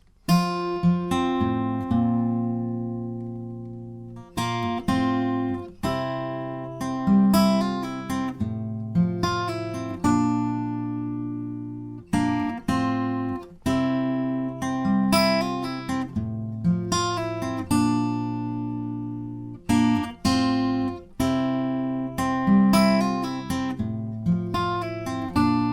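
Acoustic guitar playing the intro of a song, percussive slaps on the body mixed with plucked strings, repeating in a steady pattern, close and clear, no voice.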